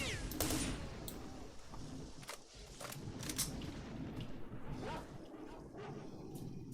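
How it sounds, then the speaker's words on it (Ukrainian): Gunfire in the game S.T.A.L.K.E.R.: Shadow of Chernobyl crackles in scattered bursts of sharp shots at a distance, quiet and spread across the clip over a low ambient background. "Я тут думаю, хто там стріляє."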